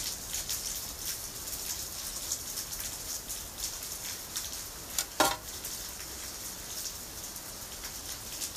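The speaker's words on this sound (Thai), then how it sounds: "ตอนนี้ฝนเบาลงละ" Light rain falling outdoors, a steady soft hiss of drops with a couple of brief louder splashes, faint and without voices.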